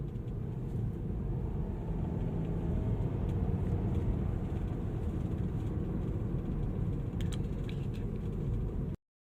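A car with an automatic transmission on a test drive right after a transmission oil change, a steady low engine and road rumble heard from inside the cabin, constant and fairly loud, with no voices.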